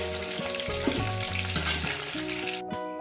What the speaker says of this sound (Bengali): ওই তেলে দিয়ে দেবো আপনার পাঁচ ফোড়ন